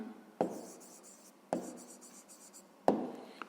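A pen or chalk scratches out a fifth-grade maths solution in three short strokes, each starting with a sharp tap and trailing off into scratching, with quiet between them.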